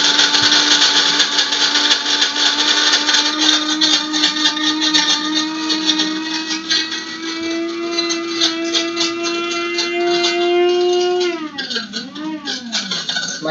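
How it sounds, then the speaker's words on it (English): An electric coffee grinder whirs loudly and steadily, its pitch slowly rising, then dipping and wavering near the end as the beans finish grinding. "My coffee grinder makes a lot of noise"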